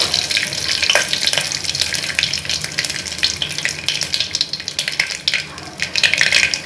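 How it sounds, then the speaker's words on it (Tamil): Curry leaves fry in hot oil in a pan while chicken kurma is being cooked, giving a loud, steady, crackling sizzle with occasional stirring scrapes, close up and with no talking. "கருவேப்பிலை வதங்கணும் இப்போ"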